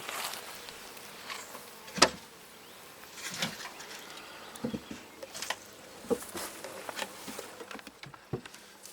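Honeybees buzz softly around an open hive during a July inspection, with scattered taps and clicks of frames being handled nearby and no talking.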